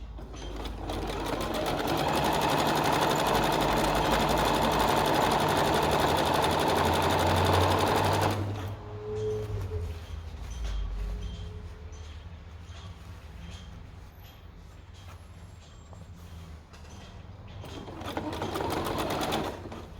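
A domestic sewing machine stitches stretched elastic onto a pair of long pants, running loud and steady for about eight seconds, then stopping to quieter handling noise before a short burst of stitching resumes at the end.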